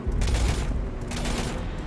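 Sustained gunfire from Mass Effect 3 Legendary Edition, a continuous rumbling barrage of shots heard at mid distance with no gaps.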